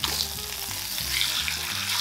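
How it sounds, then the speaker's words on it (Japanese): Chicken thigh pan-fries skin side down over medium heat, a continuous dense sizzle and crackle with soft oily popping, close and steady throughout. "皮目を下にして、中火で焼いていきます。"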